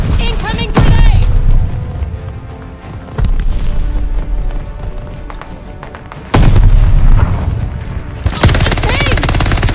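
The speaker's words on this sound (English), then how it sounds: "Incoming grenade!" Call of Duty Vanguard team deathmatch battle where a grenade blast booms amid heavy gunfire, with loud bursts and explosions stacking up close and a voice calling out over the combat.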